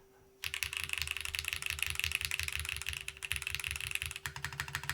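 Rapid mechanical keyboard typing with clacking keys and a heavier spacebar carrying slight metallic resonance, a dense continuous clatter close up after a brief quiet start, with a steady hum underneath.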